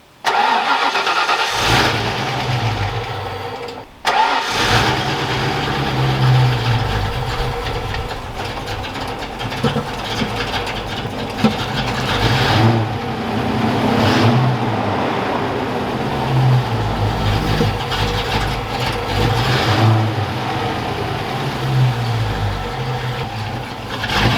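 A Ford Galaxie's engine runs roughly, loud and close, with a lumpy uneven idle and periodic surges in revs, briefly cutting out near the start before catching again.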